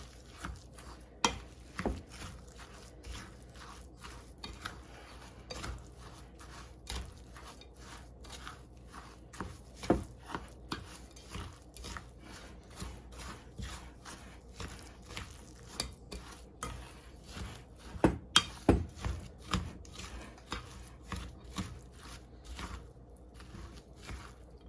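A rum ball mixture with vanilla wafers and rum is stirred in a bowl, giving a long run of quick, irregular scraping clicks and soft crunches that stay close and steady, with a few louder knocks near the end and no talking.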